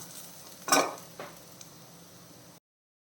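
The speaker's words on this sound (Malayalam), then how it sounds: "ഈ പൊടികളിലൊക്കെ പച്ചമണം ഒന്ന് മാറണം" Chicken with ground spices and cumin stirred in a pan, one loud scraping sweep of a utensil followed by a fainter stroke and a low sizzle, close by and without talk.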